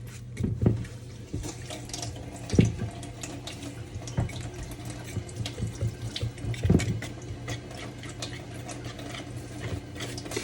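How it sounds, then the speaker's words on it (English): Water runs from a kitchen tap while a pie dough is being mixed, a steady close splashing stream with a few louder clunks and knocks from handling. "So now we add the water."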